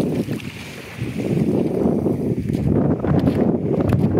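Strong wind buffets the microphone in a steady low roar, with rushing gusts building over several seconds and no clear talking.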